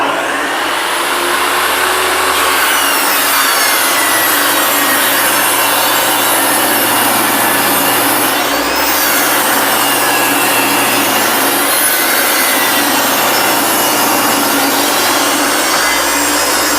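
A table saw rips a pine face frame board for a paint-grade cabinet, giving a continuous, loud, close-up whine and cutting roar that holds steady throughout with no speech.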